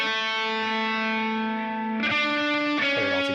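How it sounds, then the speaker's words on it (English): A sustained overdriven electric guitar lead note through a Friedman amp with an overdrive pedal rings out, then shifts pitch twice, with echoing delay trailing each change. "for the lead, I used a Friedman with an overdrive pedal and some delay and"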